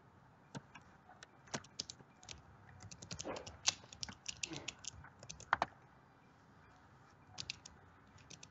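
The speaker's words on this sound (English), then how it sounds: "You're typing in the night." Computer keyboard typing comes in quiet, scattered bursts of sharp clicks, sometimes quick runs and sometimes single taps with short pauses, over a low background hum.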